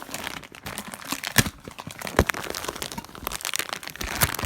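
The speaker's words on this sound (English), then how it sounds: "And I gotta unwrap the adapter." Plastic packaging crinkles and crackles close by as an Xbox wireless network adapter is unwrapped, giving a busy stream of rustling with a few sharper cracks.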